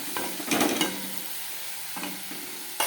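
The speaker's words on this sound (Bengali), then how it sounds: "চিংড়ি মাছটা ভাজা ভাজা হোক, ঢেকে দিব" Shrimp fry with mustard paste in a pan, giving a steady soft sizzle with scraping stirs and a few louder knocks of the spatula.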